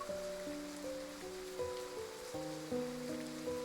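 Rain falls steadily in the game Love and Deepspace, a soft continuous wash under gentle background music.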